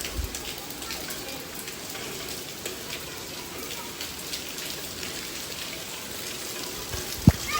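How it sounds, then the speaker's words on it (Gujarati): Rain falling steadily with a soft hiss and scattered drip patter, a single sharp knock near the end. "આજે આટલો વરસાદ આવ્યો."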